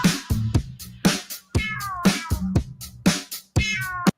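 Kitten meowing close up: a run of about seven short, high, insistent meows in quick, uneven succession, each one clear and separated by brief pauses.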